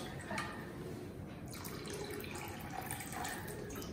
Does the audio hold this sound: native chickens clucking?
no